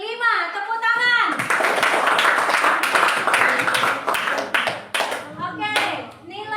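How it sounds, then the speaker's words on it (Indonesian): A fifth-grade class clapping hands in a classroom, a burst of many children's claps that follows a voice, then thins into scattered sharp claps near the end. "Tepuk tangan."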